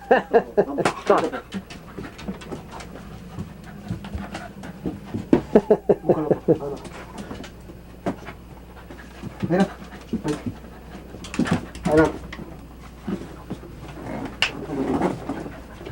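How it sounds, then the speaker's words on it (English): A pet dog on a sailing yacht pants and sniffs while searching for drugs, quick breathy huffs and snuffles close up, with people talking around it and occasional knocks. "This is the pet dog looking for drugs."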